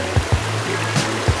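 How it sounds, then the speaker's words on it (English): A small, clear mountain stream at the start of the Old Goat Glacier trail in Kananaskis Country rushes in a steady broadband wash, with a few soft low thumps, close and without voices. "It's a nice little clear stream."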